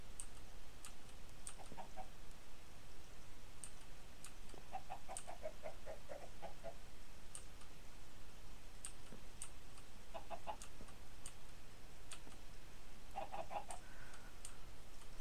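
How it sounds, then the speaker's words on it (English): Chickens cluck in a pen in the game from the June 2013 MHC Pie Factory episode, short bursts of clucking recurring several times over a steady hiss of background ambience, fairly faint and without voices. "Four chickens in the pen."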